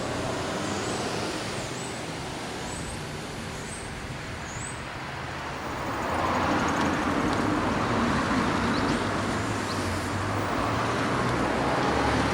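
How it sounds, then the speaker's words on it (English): Steady road traffic rolls past in a continuous broadband roar, building slightly louder about halfway through as more vehicles pass, with faint bird chirps high above the noise and no one talking. "quite a bit of traffic on the road, a surprising amount actually"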